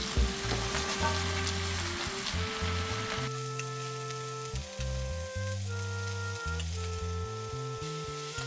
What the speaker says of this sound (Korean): 팬에 식용유 1스푼과 들기름 1스푼을 넣고 깻잎을 제외한 잘라둔 야채 모두 넣어서 볶아줍니다.